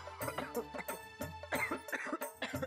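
A child coughs repeatedly in short, rough bursts, fairly close and moderately loud, with no other voices over it.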